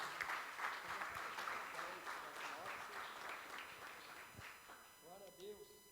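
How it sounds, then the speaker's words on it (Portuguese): Congregation applauding at an evening family worship service in a Pentecostal church in Piracicaba, Brazil: dense, sustained clapping that tapers off near the end as a voice begins speaking over it. "Dá uma poderosa salva de palmas para o Senhor Jesus."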